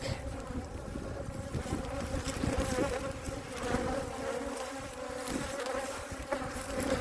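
A swarm of honeybees that has moved into an empty brood box hums in a dense, continuous buzz. The swarm sounds close and fairly quiet, with individual bees passing by now and then.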